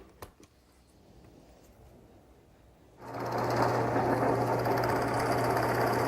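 After a quiet stretch with a few light taps, a drill press motor starts up to bore screw holes in a Turkish-style side table, settling into a loud, steady hum with a constant whir.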